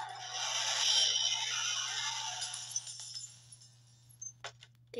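Glass breaking in the Roblox horror game Doors, a fading shimmer of shattered glass followed by a few small clinks and knocks, moderately quiet.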